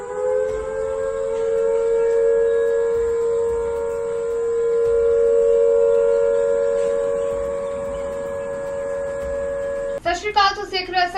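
Civil defense sirens wail continuously across Chandigarh, a loud sustained rising and falling tone from a distance, with a voice speaking over the end.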